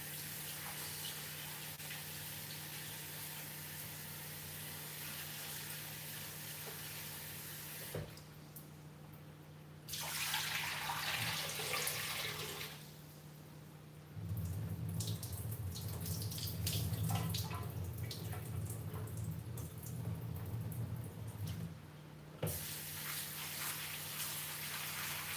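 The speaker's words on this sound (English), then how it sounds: "I'm gonna go ahead and rinse this." Green lentils, soaked for two hours, are rinsed under a running kitchen tap. Steady, close gushing water shifts in force, with a short lull and then a heavier, fuller stream mid-way. No one speaks.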